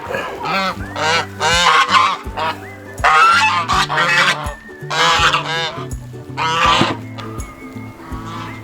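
Ducks being herded and moved on a farm call out loudly and repeatedly, with overlapping honking quacks in steady bursts close by.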